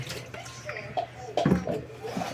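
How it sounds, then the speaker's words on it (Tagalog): Water poured into a container while dishes are washed in a home kitchen, a short splashing pour in the middle of the clip, close and moderately loud, with a voice speaking around it. "Lagayan natin ng tubig."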